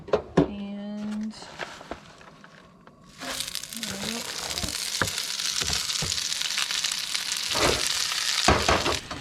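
Fresh spinach wilting in a little oil in a pan at a lakeside campsite, a steady loud sizzle and crackle that starts after a few quiet seconds, with a voice talking over it.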